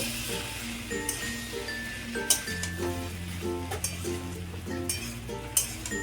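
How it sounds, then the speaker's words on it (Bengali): Boiled potato, radish and tomato sautéed over high heat, a soft sizzle beneath frequent metallic clinks and scrapes of a spatula against the pan, with a low musical tone running underneath. "ওভেনটাকে জোরে দিয়ে আমি এটাকে কষিয়ে নিচ্ছি ভালো করে।"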